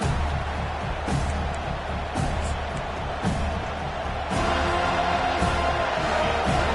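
A stadium crowd at an American football game roars loudly and continuously, with sharp bangs early on and a surge in volume about two-thirds of the way through.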